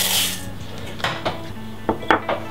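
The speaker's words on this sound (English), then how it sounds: "throw all of your ingredients into a mixing bowl and mix it together" Banana and oat bite ingredients being stirred in a mixing bowl: a few short scraping clinks and knocks of a utensil against the bowl, close and intermittent, with no talking.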